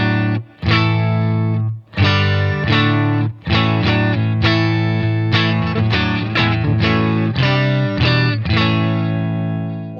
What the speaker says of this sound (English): Here's Mark III.